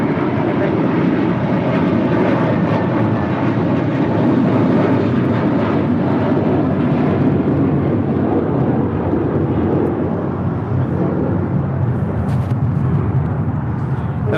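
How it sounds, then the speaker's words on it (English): A JetBlue Airways Airbus A321 takes off at LAX, a loud, steady jet engine roar that fills the whole stretch without a break and stays close and powerful throughout. "That was JetBlue Airways Flight 188 heading to Boston at that A321."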